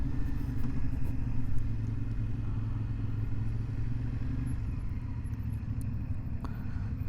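A CFMOTO 450SS sport motorcycle, a 400cc-class bike, pulls under acceleration with a steady, loud engine drone and a little road clatter, no talk over it.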